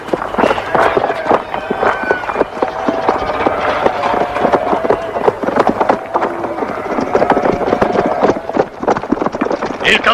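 Horses galloping off together in a sword-and-sandal film scene, a rapid, busy clatter of hooves with wooden knocks and rubbing, loud and close throughout.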